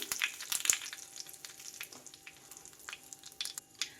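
Curry leaves and dried Byadgi and Guntur chillies fry in hot oil for onion chutney, a soft continuous sizzle with scattered sharp crackles and pops at close range.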